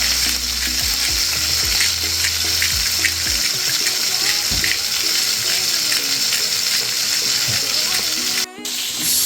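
A meat burger patty sizzles steadily in a hot pan for an onion burger, with a dense, continuous frying crackle that holds close and loud throughout, briefly dipping near the end.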